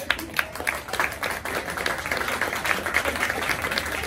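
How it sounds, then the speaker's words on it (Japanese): An audience at a live concert in a Kyoto venue claps steadily, a moderately loud spread of hand claps with distinct individual claps rising out of the crowd's applause. "もう一度メンバーに大きな拍手を。"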